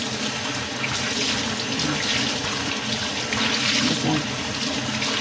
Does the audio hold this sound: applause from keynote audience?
no